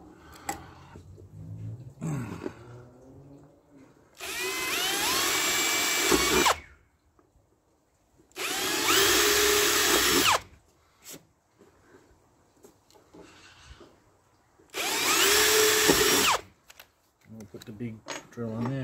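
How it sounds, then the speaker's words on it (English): A power drill whirs in three sustained bursts, each a few seconds long, separated by quiet pauses with brief talking. "So we'll drill those holes."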